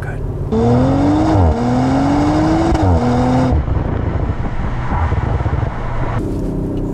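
A 2022 Audi RS4 B9 accelerates hard from inside the cabin, its engine note climbing through two gear changes before easing into a steady rumble of road and tyre noise, with a voice heard over it.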